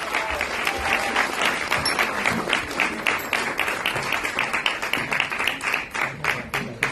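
Sustained audience applause follows a dance performance at a cultural arts event, with dense, even clapping from a full crowd lasting several seconds at steady loudness, no speech over it.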